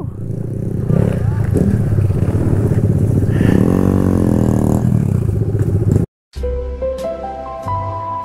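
A mini bike engine roars loud and close while riding through city streets, a rough continuous drone with wind, then a brief cut and a shift to a higher rising whine with clattering and voices.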